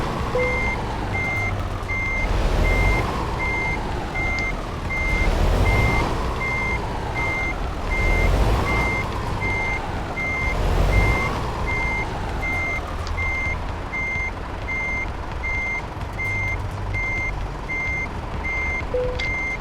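Reversing beeps from a truck in Euro Truck Simulator 2 sound as a steady, evenly spaced electronic beep over a rumbling engine that swells and eases several times as the truck backs up. No one speaks.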